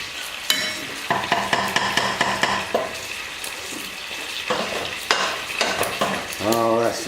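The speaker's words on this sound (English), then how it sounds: "The bacon needs just a little bit more of a cook." Bacon fries in a pan for a spinach flan, a steady sizzle close by under repeated metallic scraping and clinking of a utensil against the pan.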